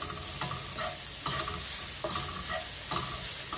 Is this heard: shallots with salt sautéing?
yes